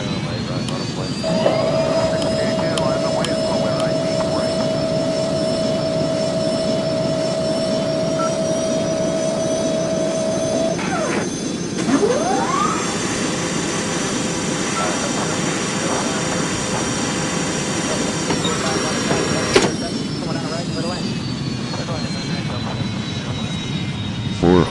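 Engines of an Embraer 140 regional jet airliner on approach, a steady loud cabin roar with a constant high whine and shifting engine tones throughout, with a brief electronic tone and faint cockpit voices mixed in.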